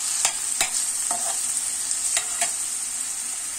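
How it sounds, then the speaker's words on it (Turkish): Onions sauté in a hot pan with a steady bright sizzle, broken by a few sharp scrapes of a stirring utensil spaced irregularly, close and fairly loud, no voices. "Şimdi soğanını koydum arkadaşlar, kavruldu."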